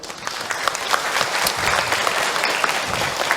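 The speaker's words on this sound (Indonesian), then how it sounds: "boleh tepuk tangan untuk Akh Hilman" An audience at an Islamic religious lecture applauds with dense, steady clapping that fills the whole stretch, close and lively with no voices over it.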